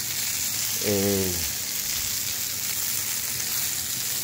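Short ribs sear in a hot frying pan, giving a steady, bright sizzle that hisses evenly throughout, close and constant. A voice briefly speaks a single word near the start.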